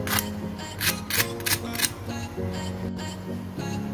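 Crispy fried finger pakoras crunch in short bursts, several broadband crackles spread across a few seconds, close and fairly loud with no talking.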